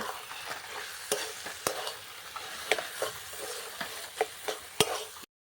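Shapla greens being stirred in a pan with fish oil: a soft, steady sizzle broken by sharp scraping clicks of the spoon at irregular intervals, close and moderately loud, with no voices.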